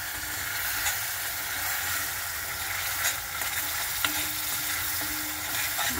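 Tomato paste frying in a pan for chole, a steady close sizzle with soft stirring scrapes throughout, no talking.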